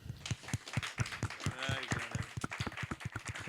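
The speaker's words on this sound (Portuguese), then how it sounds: "Palmas pra ele, produção." Studio audience and crew clap for a contestant on a music show stage, a small group tapping out quiet, rhythmic claps that pulse steadily, with a brief voice passing in the middle.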